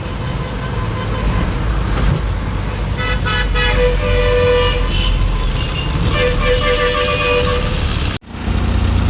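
Dense, loud road traffic on a busy street, with engines of cars, trucks and buses rumbling continuously and several horns honking over the din, close by, ending in a brief sudden dropout.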